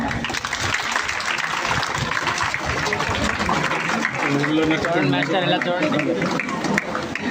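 Applause rings out at a school Independence Day ceremony, a continuous crowd clatter lasting several seconds with people talking over it.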